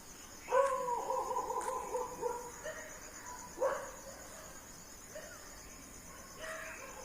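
Birds call in the early morning before sunrise among banana plants and greenery, several clear, repeated whistling calls rising out of a quiet background with a faint insect hum.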